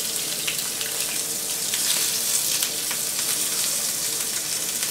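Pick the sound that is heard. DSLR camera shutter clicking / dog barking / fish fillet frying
fish fillet frying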